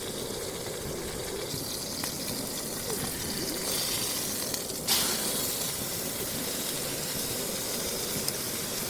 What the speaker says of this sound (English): So the steak sizzling there